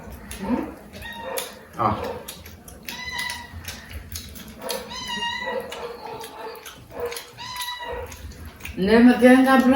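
A house cat meows several times in short, separate cries at close range, with people talking over it in a home setting.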